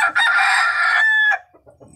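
A rooster crows loudly and close by, one long strained cock-a-doodle-doo lasting over a second, followed by a few faint clucks.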